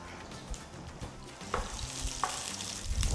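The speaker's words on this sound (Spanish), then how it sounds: "Vamos a dejar cristalizar un poquito para que pierda un poco de fuerza el sabor de la cebolla." Garlic and onion frying in a pan, giving a steady, close sizzle with faint crackles and a few brief stirring clicks; no one speaks.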